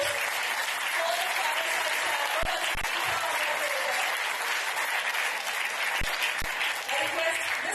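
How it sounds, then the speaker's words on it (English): At a campus sustainability event, an audience gives loud, steady applause, a continuous dense clatter of many hands with a few sharp knocks and faint voices in the crowd. "I want you all to give a bigger round of applause"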